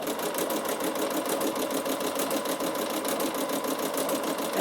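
A Bernina sewing machine fitted with a ruffler foot runs steadily, a fast, even mechanical whirring and clatter with a regular rhythmic pulse, close and continuous throughout.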